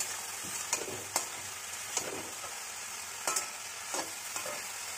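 Chopped tomato with salt and turmeric stirred in a pan: a soft sizzle with several sharp spoon scrapes and knocks against the metal, nearby and fairly quiet.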